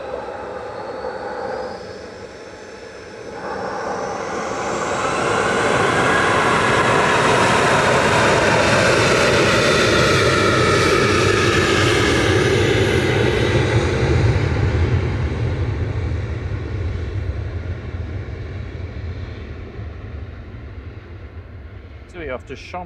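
Boeing 737-800, flight 2626, at Manchester Airport rises from a quiet start into a loud, sustained jet engine roar that peaks mid-clip, then slowly fades as it departs.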